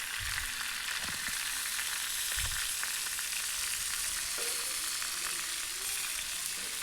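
Whole pond-caught catla fish frying in a pan of oil gives a steady, close hiss and crackle throughout, with a few soft low bumps as it is moved, no voices.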